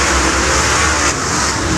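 Dirt late model race cars roaring around the Timberline Speedway track, a loud dense engine drone from several cars at once, steady and without pause.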